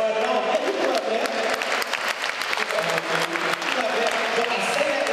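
An audience breaks into applause, a full, continuous wash of many hands clapping at a steady level for several seconds, with a faint murmur of crowd noise underneath.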